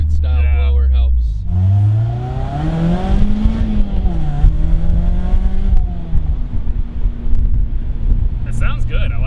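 Engine of a supercharged 2-liter Mazda Miata with a Roots-style blower revving up and down, its rising and falling tone steady and loud through the clip with wind noise and some talk over it.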